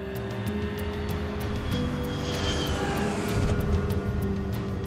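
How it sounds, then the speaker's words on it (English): A passenger plane on final approach to Yaroslavl, a steady loud engine drone heard from inside the cabin, swelling slightly as it nears landing, with no talk. "The plane is just moments from landing at Yaroslavl, a city 250 kilometers northeast of Moscow."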